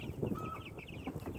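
Young meat chicks cluck and peep in a small burst of soft, quick calls, fairly quiet and close, with one higher sustained cheep among the chatter.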